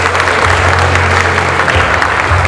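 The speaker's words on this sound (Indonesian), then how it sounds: "kita sambut dengan aplaus paling meriah" A large seated audience at a company family gathering breaks into loud, continuous applause, a dense wash of clapping hands that holds steady from start to finish.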